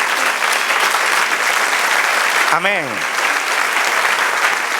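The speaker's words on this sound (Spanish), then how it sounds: "Dale aplauso, Señor." A church congregation claps steadily throughout, a loud continuous wash of applause, while a single voice briefly calls out over it near the middle.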